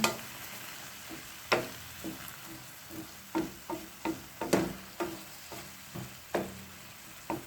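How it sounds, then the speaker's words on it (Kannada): Prawn masala with tamarind stirred in a pan: a soft steady sizzle under a dozen or so irregular spoon scrapes and knocks against the pan, with no talking. "ಸ್ವಲ್ಪ ಹುಣಸೆಹಣ್ಣನ್ನು ಹಾಕ್ತೇನೆ ಸಾಕು ಸಾಕು ಒಳ್ಳೆ ಚೆನ್ನಾಗಿ ಮಿಕ್ಸ್ ಮಾಡಿಕೊಳ್ಬೇಕು"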